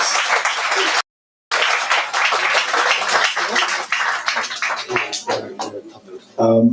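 An audience at a graduation ceremony applauds, a dense, sustained wash of clapping that breaks off briefly and then carries on loud and full before tapering near the end.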